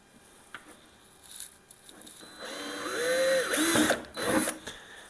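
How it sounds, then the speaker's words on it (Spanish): A power drill fitted with a 6 mm metal bit bores into plastic, its motor whining up in pitch over a couple of seconds after a few handling knocks, then dropping and briefly revving again, close and loud. "Yo, para plástico, siempre pongo la broca de para hierro, porque es que lo abre con nada."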